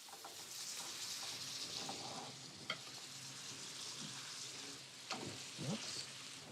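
Chicken rolatini returned to a hot pan deglazed with wine fry with a steady, close sizzle and crackle throughout, with a few soft scrapes of a utensil against the pan.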